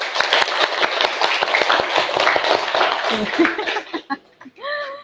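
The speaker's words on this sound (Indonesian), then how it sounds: "Tepuk tangan dulu teman-teman." A crowd claps in a quick, dense patter that gradually thins out, with some laughter mixed in, before a voice speaks at the end.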